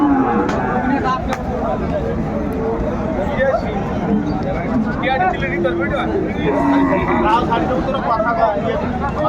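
A Sahiwal bull lows at a busy cattle market, its drawn-out moos carrying over a steady hubbub of chattering voices and crowd noise throughout.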